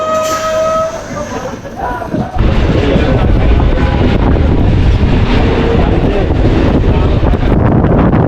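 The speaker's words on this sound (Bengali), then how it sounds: "এখন আমি ট্রেনে উঠবো" A local passenger train near a village station outside Kolkata, heard from close by: a quieter stretch gives way to a sudden loud, continuous rumble and rattle of wheels and carriages with heavy wind buffeting.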